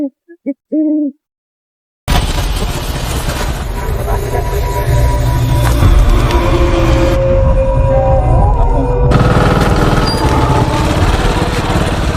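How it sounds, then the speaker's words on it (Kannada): A vehicle engine catches abruptly after a few brief hoots and then runs loud and steady, a rough, continuous drone close by with no pause. "ಗಾಡಿ ಸ್ಟಾರ್ಟ್ ಆಗೋಯ್ತು"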